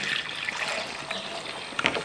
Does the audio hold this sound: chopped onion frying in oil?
no